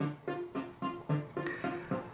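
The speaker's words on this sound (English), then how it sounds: "at the moment it's just a MIDI file, and it's going through a VST. So that's the sound you're hearing." A MIDI part played through a VST software instrument in Reaper, eight evenly spaced tonal notes in a steady pulse at moderate level, with no voices.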